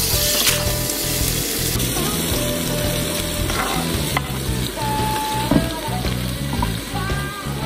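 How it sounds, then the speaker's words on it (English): Tomato hits a hot pan for spaghetti al pomodoro, setting off a loud, steady close sizzle with frying crackle and occasional stirring scrapes throughout. "I start adding the tomato"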